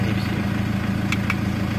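A 2008 Mitsubishi Triton pickup's diesel engine idles steadily at low revs, a continuous even rumble with a couple of faint higher clicks over it.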